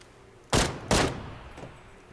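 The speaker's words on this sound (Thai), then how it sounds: "ยิงขู่ยิงขู่" Two sharp, loud warning gunshots in PUBG, fired about half a second apart and close by, each trailing into a short echo with no talking over them.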